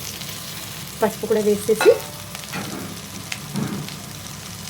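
Capsicum and onions with curry leaves fry in a pan, a steady sizzling hiss running throughout, while a voice speaks briefly over it near the start.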